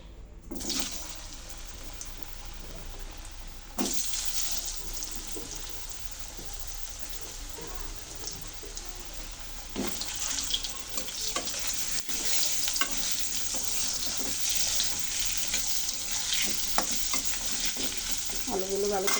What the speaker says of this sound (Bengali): এখন এই তেলের ভিতর আমি আলুগুলো ভেজে নেব।